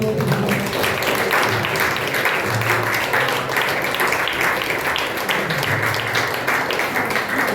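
Loud, continuous applause from a church congregation during a celebration service, many hands clapping densely together, with faint voices mixed in.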